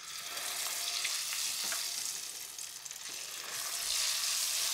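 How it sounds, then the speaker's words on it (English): Lemon and onion hitting browned butter and olive oil in a skillet, giving a bright crackling sizzle with spitting pops, dipping briefly then swelling louder again, close up with no talking. "It is gonna splatter a little bit because we're adding a liquid to a fat"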